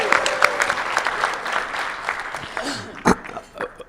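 An audience at a Rotary Club of Tucson meeting claps in a steady round of applause that swells and then tapers off, with a voice speaking briefly over the clapping.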